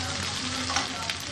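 Ground onion paste sizzles and fries in a hot pan, a steady close crackle with a couple of brief stirring scrapes over a second and a half.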